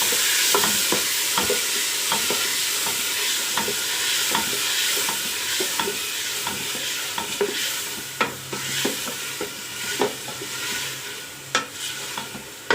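A spoon scrapes and stirs roughly chopped tomatoes into frying onions in a cooker, making rhythmic clinks and scrapes over a steady close sizzle.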